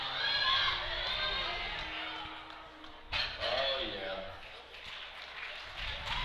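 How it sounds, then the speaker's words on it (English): A crowd at a USA powerlifting meet cheers and shouts as a lifter takes 210 kilos, loud at first with a fresh burst midway, while an announcer talks over the noise throughout. "Now Samantha Calhoun, as the crowd comes to their feet at 210 kilos."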